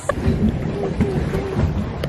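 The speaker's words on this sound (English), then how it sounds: "Pedal boat." A pedal boat moves across water with a soft, steady churning and splashing from its paddles, repeating at an even pace, fairly close and with no talking.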